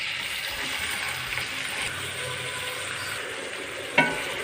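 Onions fry in a cup of oil in a kadai, a steady close sizzle with a brief metallic clink near the end.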